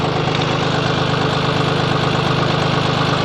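A John Deere 5055E tractor with a three-cylinder turbo engine runs steadily close by, a dense, even rumble with a throbbing low pulse and no change in pace.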